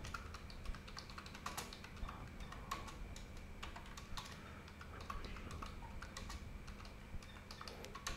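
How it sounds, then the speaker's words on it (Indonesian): Computer keyboard typing, a steady stream of quiet, close key clicks with irregular rhythm over a faint hum, lasting throughout. "Jadi saya ketik"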